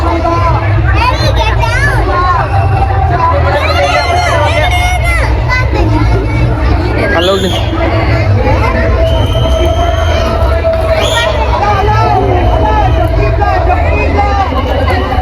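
A large festival crowd fills a park during Maha Shivaratri celebrations: constant loud babble of many voices, with shouts and a nearby person speaking over the dense hubbub.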